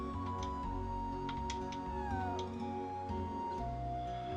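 A cat in the video game Chrono Cross meows a few times over steady game music, the calls short and near, with a gliding pitch.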